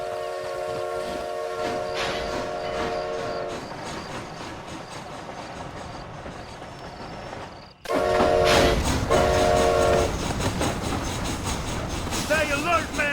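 Train running in the video game Red Dead Redemption: Undead Nightmare, a steady rumble and clatter of rolling wagons with blasts of horn or whistle, the roar abruptly growing louder midway.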